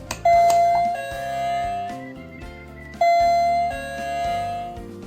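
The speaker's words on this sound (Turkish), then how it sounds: "kapı daire önünde bulunan butona basarak zilimizi çalıştıralım" An electronic apartment doorbell, rung by its button outside the flat door, plays a ringing, melodic chime twice in a row, clear and close, with no one talking.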